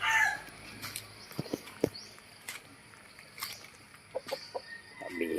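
Chickens cluck and a rooster crows intermittently around a rural Philippine home after a typhoon, with scattered short calls against quiet outdoor background.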